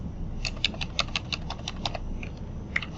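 Rapid typing on a computer keyboard, a close stream of light clicking keystrokes with a short pause before a few final taps, no voices.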